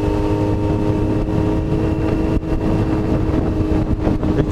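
A motorcycle engine is revved on the throttle during a ride with a passenger, a steady loud drone with brief swells in pitch, running continuously up close with wind rush.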